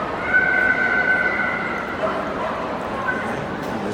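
A happy dog at a Crufts working trials display yips and barks in a sustained high-pitched run, loud and close over a noisy arena crowd.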